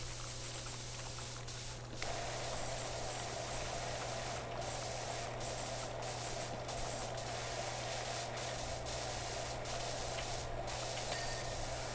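Pressure washer in the video game Power Wash Simulator, a constant harsh spray hiss that swells louder after a moment and holds steady, broken by brief pauses in the stream, with a low hum beneath.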